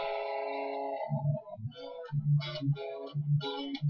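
Metal guitar harmony played as a 5-3-4-2 interval sequence: two sustained guitar lines ringing together at first, then short chugging palm-muted notes with harmonized stabs, moderately loud and without talk.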